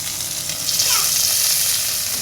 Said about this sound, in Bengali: মাছ ভাজা হতে থাকুক